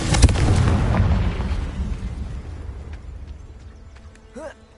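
Confringo fire spell explosion in the video game Hogwarts Legacy: a loud booming blast at the start, its rumbling tail fading over several seconds, with a brief magical chime near the end.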